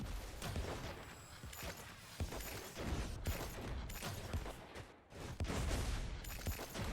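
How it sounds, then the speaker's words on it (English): Mech weapons firing in Time Treker, a bullet heaven mech battle game, a dense, busy stream of rapid shots and impacts, fairly quiet overall, with a brief lull before resuming. "You see how I'm firing more often because of my weapon upgrades?"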